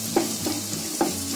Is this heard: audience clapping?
no